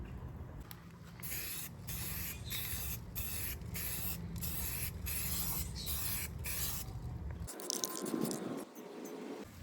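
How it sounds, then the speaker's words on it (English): Spray paint hisses from an aerosol can onto a VW Jetta wheel cover in a series of close, loud bursts with brief gaps as the can sweeps side to side, then a short pause and some handling noise. "I'm just gonna take the spray paint and I'm gonna go side to side about 7 or 8 inches away."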